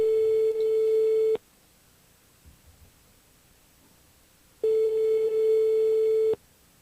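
Telephone ringback tone on a radio phone-in call: two long steady beeps, each about 1.4 seconds, separated by a three-second pause of near silence, loud and clear with no talking.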